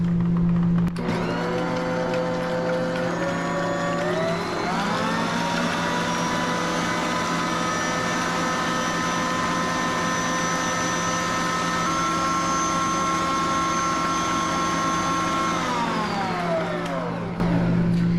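An electric mixer on high speed whips egg whites for meringue, its motor whining steadily with a rising pitch as it spins up, then holding a loud, sustained tone for about twelve seconds before winding down, no voices.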